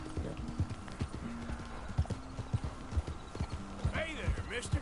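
Horse hooves clip-clop steadily at a gallop in Red Dead Redemption 2, with a whinny near the end, while someone talks over the hoofbeats.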